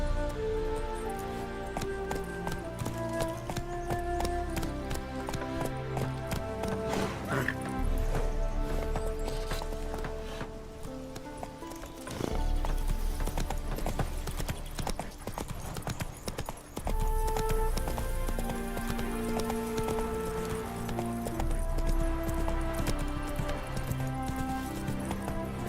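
Galloping horse hooves in The Witcher 3: Wild Hunt, a steady clip-clop rhythm running under a thick bed of game music for the whole stretch, with a short lull in the middle.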